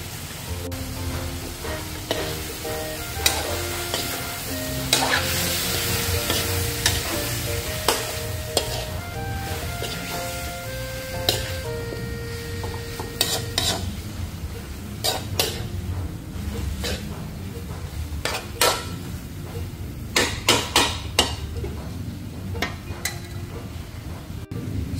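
Pork goes into a hot pot for nilagpad and is stirred, producing a loud, close sizzle. Frequent clanks and scrapes of a metal utensil against the pot run steadily throughout.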